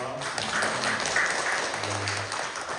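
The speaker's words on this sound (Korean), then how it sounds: "우리 박수 한번 드릴까요?" Church congregation applauds a visiting pastor, steady moderate clapping filling the room for a few seconds with a faint murmur of voices underneath.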